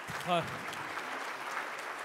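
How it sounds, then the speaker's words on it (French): Steady applause from a crowd at an awards ceremony for property developers fills the clip, with a brief voice near the start and clapping continuing evenly throughout. "Et on les applaudit bien fort, tous les quatre."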